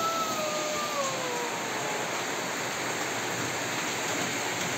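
Heavy rain pours down as a dense, even roar that holds steady from start to finish, with a faint high tone sliding down near the start.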